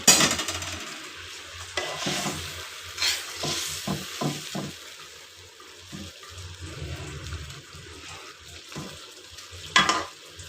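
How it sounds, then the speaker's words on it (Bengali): Fried tengra fish tipped into a pan of tomato curry with a little water and stirred, giving soft scraping and bubbling with a few sharper clatters, close and moderately loud, no voices. "এবার আমি ভেজে রাখা মাছগুলো দিয়ে দেব।"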